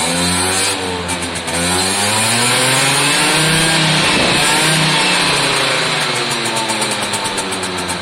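A Zontes AP50 motorcycle engine with a bad idle revs up and down through its range with no load, loud and close, with repeated rising and falling engine tones.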